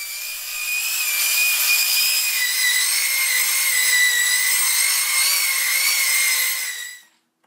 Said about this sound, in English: all of the rails and balusters are sanded and cleaned after disassembly